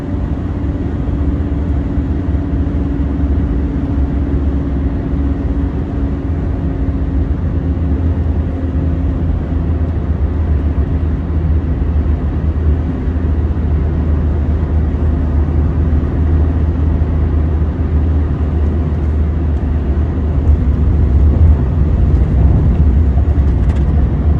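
A car on Monroe OESpectrum shock absorbers sweeps into a curve at 120 km/h, giving a steady, loud drone of engine and road noise with wind rush that holds unbroken throughout.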